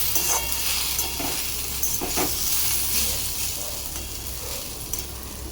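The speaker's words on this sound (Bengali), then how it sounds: "রসুন দিয়ে কচু ভাজা" Taro pieces frying in a pan with garlic, chilli, salt and turmeric give a steady, fairly loud sizzle and hiss throughout, with a few soft clinks of stirring and no voices.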